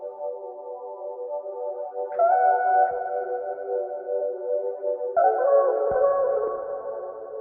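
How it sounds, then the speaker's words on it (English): A pitched vocal sample processed with effects from the Exhale Love Cry preset: smooth sustained harmonic tones that step up in pitch twice, sounding airy and sonar-like with no other sounds alongside. "After some pitching and with some effects, the vocals sound like this."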